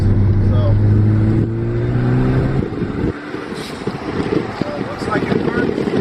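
Ford Focus ST engine held under boost with methanol injection spraying from a hose, a steady loud low drone that cuts off abruptly partway through, followed by rougher broadband noise and wind buffeting.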